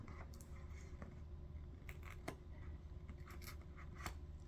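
Scissors snip in a quiet room, a few short scattered cuts and scrapes, soft and close, with no one talking over them.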